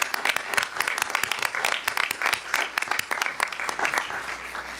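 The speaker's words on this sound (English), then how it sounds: "We have to clap to that." An audience at a board of education meeting breaks into sustained applause, many hands clapping densely and steadily at moderate distance for several seconds.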